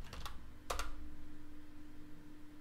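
A command is typed on a computer keyboard as a few quick clusters of light key clicks near the start, then quiet with a low steady hum; no speech.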